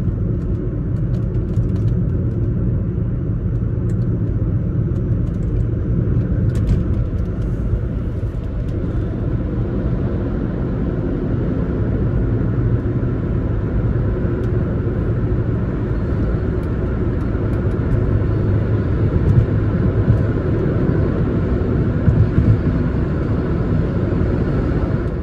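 Converted electric car driving in second gear, giving a steady low road rumble and cabin drone that holds evenly for the whole stretch, with faint high whine and no talking.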